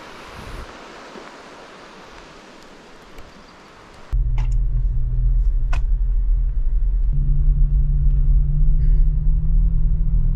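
A vehicle drives on back roads in British Columbia during a spring black bear hunt: outdoor wind and rustle at first, then a close, steady engine rumble takes over and holds loud to the end, with a brief knock or two.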